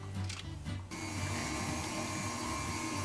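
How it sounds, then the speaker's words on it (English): An electric mixer whirs steadily, beating eggs into choux pastry dough for chocolate eclairs. The even motor drone is close and sustained, with a brief rattle at the start. "this mixer is basically going to save our arms a lot of trouble"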